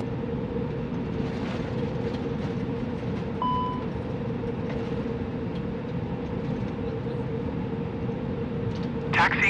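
Airliner taxiing to a gate in Microsoft Flight Simulator 2020 at Monterrey, a steady low engine rumble and whine holding throughout beneath radio voices, with a brief tonal beep partway through.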